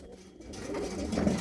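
Pigeons coo softly in a loft, a low burbling murmur that rises slightly toward the end, close but faint, with no voices.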